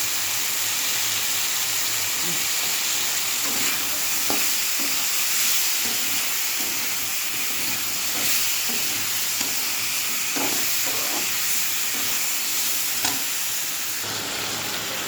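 Eggplant, pumpkin and potato pieces fry in a pan with salt, giving a steady close sizzle and hiss interrupted by soft scraping stirs of a spatula.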